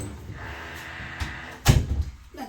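A house door swings shut with one solid thud near the end, preceded by faint background noise from a carpenter building a deck out front.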